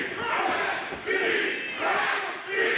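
A wrestling crowd at an indoor independent show roars and chants in two rising and falling waves, loud and close, voices of the split audience blending into a sustained cheer.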